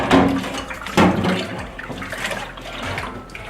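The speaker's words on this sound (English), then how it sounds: "You get the soapy water on it, it's starting to lift the dirt." A slow cooker pot with baked-on residue is scrubbed and rinsed with soapy water and soapnuts, giving wet splashing and running-water sounds with scrubbing bursts, close and fairly loud.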